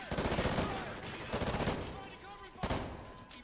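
A Bizon submachine gun fires in Call of Duty Ghosts, with several rapid automatic bursts close and loud and short pauses between them.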